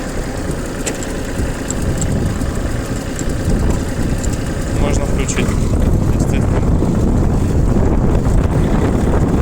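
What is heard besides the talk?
used Japanese tractor engine running while driving off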